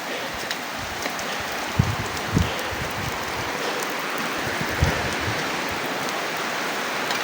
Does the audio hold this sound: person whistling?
no